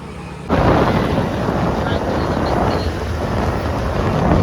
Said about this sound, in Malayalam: നല്ല മഴത്തുള്ളികൾ വീഴുന്നുണ്ട്